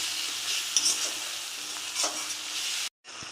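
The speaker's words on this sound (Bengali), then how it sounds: "আমি এটাকে ভালো করে কষিয়ে নেব, একটু জল দিয়ে কষিয়ে নেব।" Spice paste of chilli powders frying in a pan for a cauliflower and fish curry, with a steady close sizzle and scraping stirs for about three seconds before a brief cut and the sizzle resumes.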